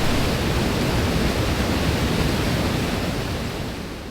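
A small unnamed waterfall on a mountain stream near a wild camp rushes as a steady, loud, dense wash of water. It stays even throughout and fades slightly toward the end, with no voices.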